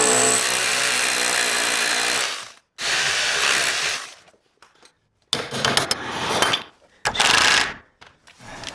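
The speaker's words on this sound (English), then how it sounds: "DeWalt driver. It's a 1/2-inch driver, and you want to definitely turn the power down" A DeWalt 1/2-inch driver sinks screws into interior wood framing, with loud whirring bursts of a few seconds each separated by short pauses and a quieter stretch between.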